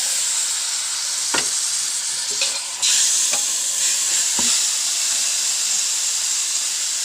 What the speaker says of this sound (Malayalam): നുറുക്കി കഴുകി വെച്ചിട്ടുള്ള ഇറച്ചി ഇടണം.